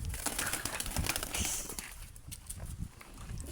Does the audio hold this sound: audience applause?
no